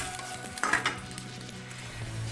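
Noodles with potato being stirred in a frying pan with a little added water, a soft sizzle underneath and a short burst of scraping and clatter partway through, with no talk.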